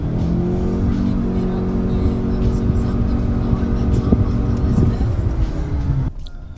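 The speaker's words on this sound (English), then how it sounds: "as you'd expect from a CVT, you get that droning sound under hard acceleration" A 2021 Chery Tiggo 7 Pro crossover with a CVT gives a steady, monotonous engine drone held at one pitch under hard acceleration, loud and continuous, then drops away abruptly near the end.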